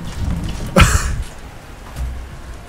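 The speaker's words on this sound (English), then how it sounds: "Oh, man, that rain is intense." Heavy rain pours down outside during an intense storm, a steady broadband wash with a brief louder gust-like surge near the start, heard from indoors without talk.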